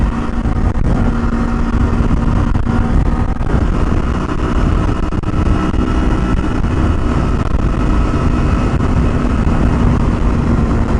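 Kawasaki Versys-X 300 motorcycle cruising steadily at 60, a loud, constant engine drone mixed with heavy wind rush from start to finish.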